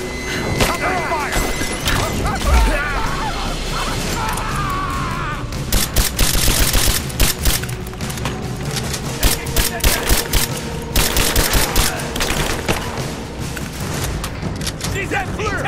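Heavy gunfire in Rise of the Tomb Raider, set in the mines: sustained bursts of automatic fire and dense volleys, loud and close, mixed with thuds and game ambience throughout, with shouted voices under the shooting.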